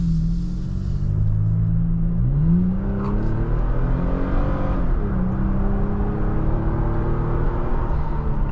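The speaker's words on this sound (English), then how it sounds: "It's a good sounding engine." The engine of a 2023 Toyota Tacoma TRD Pro pickup accelerates on a drive, a loud interior rumble whose pitch climbs, drops at a gear change, then rises again steadily.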